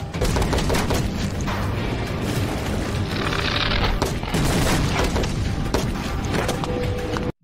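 Rapid gunfire and booming shots from a Steven Seagal action film scene, dense bursts close and loud, continuing without pause for several seconds.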